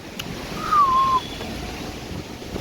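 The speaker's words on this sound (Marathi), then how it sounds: "आणि हा इकडून असा येणारा सुंदर धबधबे." Kumbhe waterfall pouring down in a steady, even roar of rushing water, with a brief whistle-like tone rising over it near the start.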